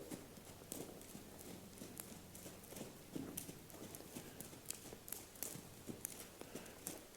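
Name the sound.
horse moving, hooves clip-clopping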